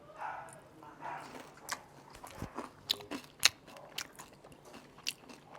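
Crispy roast pork crackling is bitten and chewed up close, giving loud sharp crunches and brittle cracks in an irregular rhythm with quieter chewing between them and no talking.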